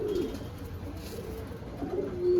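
Pilung pigeons, Murshidabadi birds kept for sale, give soft low coos at close range in two short bursts, one at the start and one at the end, with no speech.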